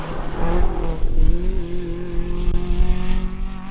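A Vauxhall Corsa rally car is driven hard at a stage in Aghadowey, its engine loud and close, revving high with shifting pitch and a rough, strained tone.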